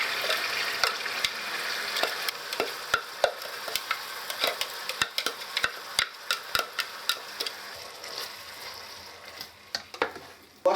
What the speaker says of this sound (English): While my pepper sauce is sauteing